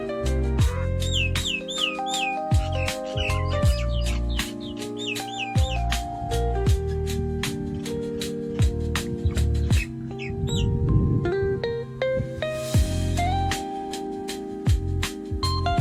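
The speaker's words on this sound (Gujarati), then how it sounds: "આ મીઠો કલરવ" Birds on a village pomegranate farm chirp, whistle and squawk in lively repeated bursts, close and fairly loud, with calls overlapping throughout and a brief rustling patch near the middle.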